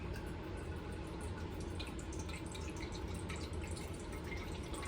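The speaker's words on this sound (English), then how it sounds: "pour a cup of lemon juice in here, into your measuring cup" Lemon juice poured into a measuring cup for cantaloupe lemonade, a steady trickling, splashing liquid stream heard close and continuous for several seconds without speech.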